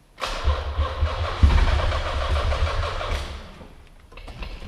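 An abandoned Nissan 300ZX engine cranking over with the accelerator floored, a loud rhythmic churning of the starter that runs for about three seconds and then fades without catching.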